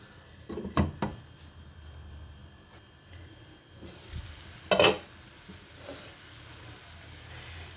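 Dosakaya and chana dal curry simmering in a pan, giving a soft steady sizzle with a few louder stirring scrapes and clatters near the start and middle.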